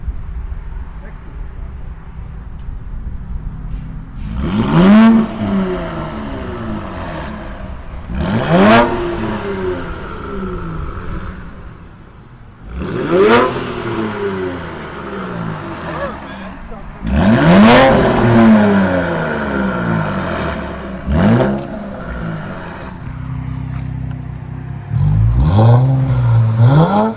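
An Infiniti Q60 3.0L turbo with a straight pipe exhaust blips its throttle again and again, each loud rev rising sharply and falling back to a rough idle, with the turbo spooling on the later pulls.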